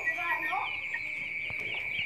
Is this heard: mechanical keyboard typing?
no